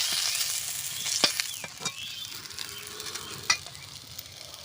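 Sliced bitter gourd frying in hot oil in a pan, a soft continuous sizzle broken by a few sharp spatula scrapes and clinks, close and fairly quiet, no talking.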